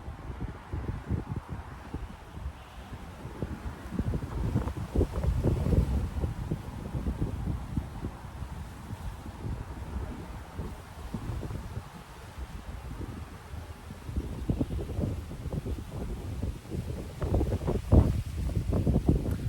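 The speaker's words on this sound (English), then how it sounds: "I love sitting and listening to things blow in the wind." Steady wind gusting outdoors, rising and falling in a broad low rumble across the whole stretch, with rustling and buffeting on the microphone and a stronger gust near the end; no one talks.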